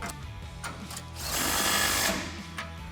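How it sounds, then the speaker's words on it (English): A ratchet with a 21 mm socket tightening a bolt on a 2018-2020 Ford F150 heavy-duty front bumper, giving a quick, close mechanical whirr and clicking that swells for about a second. "Grab your 21 socket and tighten this guy down."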